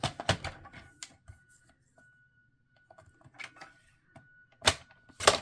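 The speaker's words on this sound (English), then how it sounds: "I'm going to trim off another 1/8 of an inch." Craft paper being trimmed for a Christmas project, a few sharp, quiet clicks and snips scattered between near-silent gaps, with a faint steady tone in the background.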